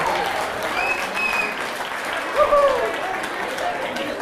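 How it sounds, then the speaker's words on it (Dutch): An audience applauds at a Frisian horse award ceremony in Drachten, a steady stream of clapping with a few voices and faint whistle-like tones mixed in. "Applaus."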